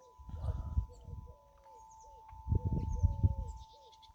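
Faint bird calls, soft cooing and a few chirps, over quiet handling noises and a steady electronic hum.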